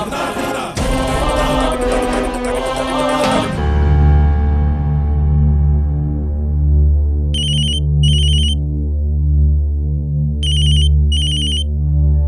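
A telephone rings in two double bursts of bright electronic trills over a sustained, swelling music bed, following a loud dramatic musical sting.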